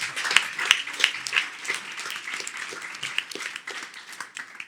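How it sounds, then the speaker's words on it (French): Studio audience applause during a French tech talk show, a fairly quiet spread of scattered hand claps, a few sharper individual claps early on, then a steady soft patter to the end. "Vous pouvez applaudir cette anecdote."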